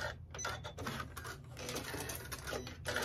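A sewing machine stitches pinwheel quilt pieces with a steady, rapid mechanical rattle that is fairly faint and close throughout.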